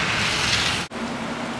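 Steady rain falls in a park in Alaska as a dense, even hiss close by, cut by a brief dropout before the hiss resumes slightly softer.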